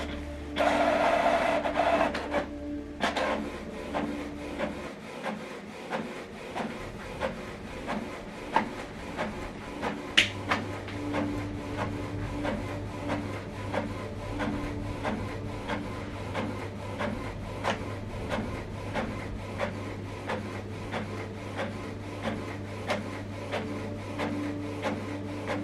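A Canon printer prints a page sent from an Android phone, starting with a loud whir and feed motor, then settling into a long stretch of steady mechanical humming with repeated clicks and rubbing scrapes.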